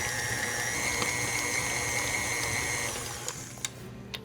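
An electric mixer blends goat cheese spread with almonds, making a steady whirring motor hum and rattle that runs evenly and then eases off near the end, close by and alone.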